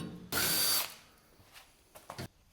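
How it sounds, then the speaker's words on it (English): A power drill drilling 1/4 inch holes in a wheelbarrow whirs loudly in one short burst, followed by quieter clicks and a couple of brief tool sounds nearby. "I'm just going to drill some new 1/4 inch holes"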